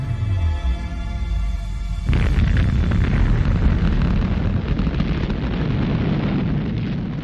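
An atomic bomb bursts over Nagasaki at 1,650 feet, heard as a sudden deep roaring blast that swells into a sustained rumbling, crackling roar carrying on to the end.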